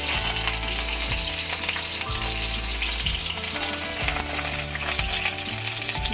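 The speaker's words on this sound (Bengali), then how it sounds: "এখন দিয়ে দিব পেঁয়াজ কুচি" Chopped onion hisses and sizzles continuously in a hot kadai, a dense, even frying crackle with no voices over it.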